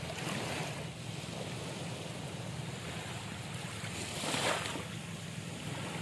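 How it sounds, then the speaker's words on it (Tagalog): Sea waves washing onto the beach in front of a house, a steady roar of surf with wind buffeting the microphone and one swelling wave surge near the end. "Ang dagat."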